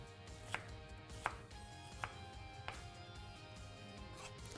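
A knife slices through shallots on a cutting board, giving six or seven distinct, evenly spaced chops, close and clear over a faint steady background hum.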